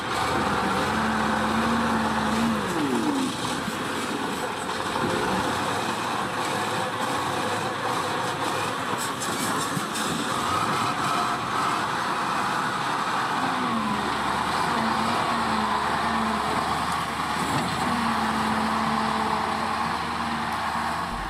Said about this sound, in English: The front drive wheels effectively create the track, and the rear drive bogie, essentially following that established path on a ready-made road, pushes the vehicle forward.